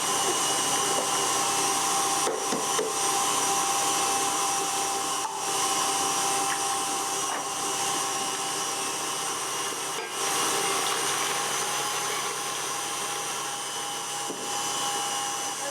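An electric mixer beats eggs into an Irish Christmas cake batter with a loud, continuous close-up whir and slight dips in speed throughout.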